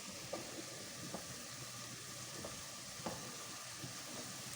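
Grated carrots with cardamom being sautéed in a pan for carrot halwa, a soft, steady sizzle with faint intermittent stirring scrapes, quiet and fairly distant, no voices.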